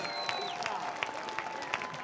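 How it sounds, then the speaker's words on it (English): Crowd at a high school varsity football game claps in scattered, moderate applause with a few sharper claps standing out, heard at some distance with faint voices mixed in. "But a louder applause for the Abington Youth Football Squad."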